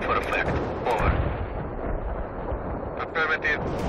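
An artillery barrage rumbles in the World in Conflict video game, a dense and steady roll of distant booms with crackling blasts, under radio-style voices.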